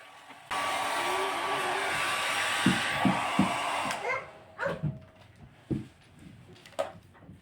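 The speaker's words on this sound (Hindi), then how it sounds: "तो हेयर ड्रायर को मैं ऑन करती हूँ और इस तरह से अपने बालों में करती हूँ।" A hair dryer is switched on and blown through hair during an at-home hair spa treatment, roaring steadily for about three and a half seconds before cutting off, followed by a few clattering handling knocks.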